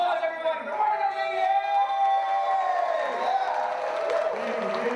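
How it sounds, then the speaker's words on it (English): A rally crowd cheers, whoops and claps for a comedian being introduced, a loud continuous roar with voices shouting over it throughout. "So big round of applause, everybody, Martin Amini!"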